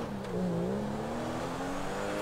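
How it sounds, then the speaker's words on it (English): A stolen car in the video game GTA V drives with its engine droning and rising in pitch as it accelerates, loud and close, no speech over it. "Stealing cars, stealing planes."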